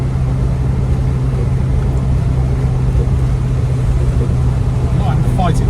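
A 1990 Land Rover 90 V8 County station wagon engine runs with a steady, loud, low droning hum throughout, a constant even rumble that never lets up; faint voice-like tones surface briefly near the end.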